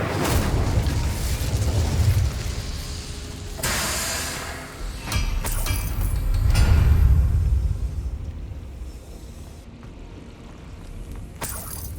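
A fire spell cast in Hogwarts Legacy on PS5: broad roaring whooshes and booming bursts arrive in several loud waves, with crackling noise rising and fading between them and no talk.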